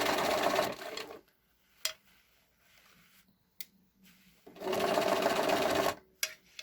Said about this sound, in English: you just have to be very careful when you sew over the elastic, so just go a little bit slowly